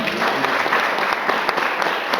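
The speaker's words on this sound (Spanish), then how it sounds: "¿Cuántos le dan un aplauso al Señor?" A church congregation applauding in praise during a Spanish-language service, a short burst of dense, even clapping from many hands throughout.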